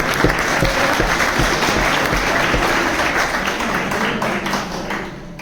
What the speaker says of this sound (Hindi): तालियां बजाकर